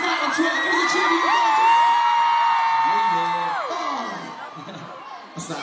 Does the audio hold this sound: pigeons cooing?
no